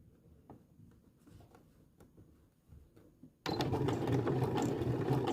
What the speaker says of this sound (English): I'm in control of the sewing machine.